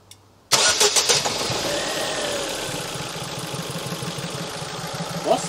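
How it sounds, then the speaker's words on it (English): A Ford Focus Mk1 1.4/1.6 petrol engine cranks and catches after a short quiet lead-in, then settles into a steady idle with an odd, irregular noise running through it, recorded close to the engine bay. "So would you like to start the engine up and let people hear what's going on?"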